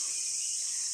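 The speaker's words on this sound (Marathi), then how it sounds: "आणि रातकिड्यांचा पण आवाज येतोय." Crickets at night in a village, a steady high-pitched trill that runs without a break through the whole second and sounds close and fairly loud, with nothing else heard.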